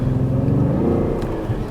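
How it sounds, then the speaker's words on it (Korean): Renault SM6 LPe with an LPG engine in sport mode, giving a steady, loud synthetic-sounding engine drone heard from inside the cabin, sustained and fairly even with no speech over it. "사운드가 이 스포츠 모드의 이 사운드는 조금 과한데"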